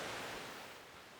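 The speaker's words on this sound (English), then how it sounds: "Heading down to this perfect little waterfall" A small waterfall in Taipei, heard as a steady, broad rush of falling water that fades slightly toward the end, with no voices.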